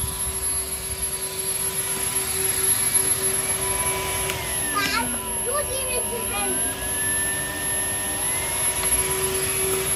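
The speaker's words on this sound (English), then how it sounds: "Can you hoover that mess up there, please?" A Henry vacuum cleaner runs continuously while an extremely dirty car is cleaned, a loud steady roaring whine with brief sucking and rattling changes midway.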